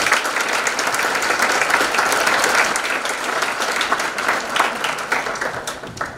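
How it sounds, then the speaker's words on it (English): A school audience at a National Honor Society induction breaks into sustained, dense applause for the parents, a steady wash of many hands clapping that carries on for several seconds with no talk over it. "So let's have a big round of applause for all of our parents."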